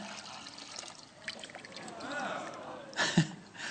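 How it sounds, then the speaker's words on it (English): Pond water pouring into a water purifier, a soft trickling, splashing stream that builds toward the end, faint and close under background noise. "Right, we're just going to pour that in there."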